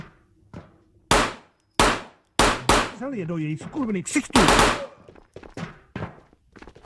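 A Mat 49 submachine gun fires in Ghosts of Tabor with loud, punchy reports in uneven short bursts at a modest rate, and someone talks over the shots midway.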